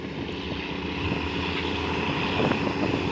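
A diesel railcar train, service 211 from Bangkok to Taphan Hin, pulls out of Ban Phachi junction station with a steady, loud engine rumble and wind buffeting that swells slightly as it goes, with no talk over it.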